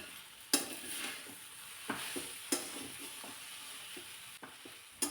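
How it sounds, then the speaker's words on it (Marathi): A vegetable curry is stirred in a pan right after the lid comes off, a soft steady sizzle under the scrape of a spoon with several sharp clicks against the pan across five seconds. "झाकण काढून पुन्हा एकदा हे चांगलं मिक्स करून घ्यायचं"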